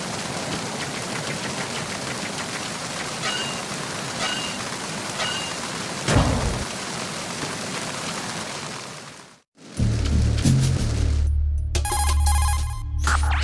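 Steady rain hisses across a ship's deck in Metal Gear Solid 2 for about nine seconds, then cuts out briefly before a denser texture returns with electronic ringing tones layered over it.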